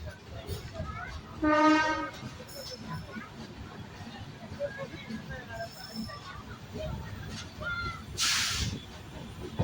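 Station ambience at Dharmapuri railway station with people talking, crows cawing, a short horn-like tone and a low rumble of rail activity in the background as an express train arrives.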